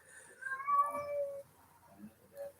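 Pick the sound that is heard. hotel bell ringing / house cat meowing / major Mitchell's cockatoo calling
house cat meowing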